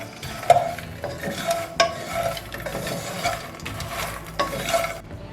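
Makhana is stirred in a pan with chili powder, salt and sugar, with several distinct scraping strokes of a spoon against the pan over a soft sizzle, each stroke a brief rasping sweep.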